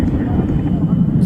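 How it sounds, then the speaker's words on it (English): F-22 fighter jets taxi out as a loud, steady low engine rumble, with a voice talking over it. "Fighters coming out. These are F-22s."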